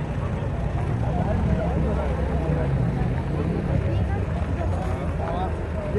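A Lanz Bulldog tractor's engine runs steadily as a dense, continuous low rumble, with a voice speaking over it.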